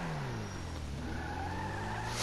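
Annis Savestra sports car in GTA Online braking hard from top speed, a loud continuous engine and tire roar with a falling pitch as it slows, ending in a brief rising burst.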